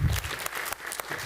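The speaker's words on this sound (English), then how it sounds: "So another round of applause for" Audience applause at a city commission award ceremony, a short burst of steady clapping from a room of people, heard alone.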